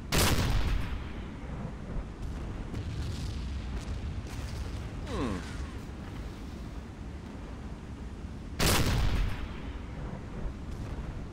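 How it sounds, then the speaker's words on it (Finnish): Burning ammunition ship in Silent Hunter III setting off secondary explosions: two loud bursts several seconds apart, at the start and near the end, over a steady low roar like surf. "Saadaan kivasti noita sekundaarisia"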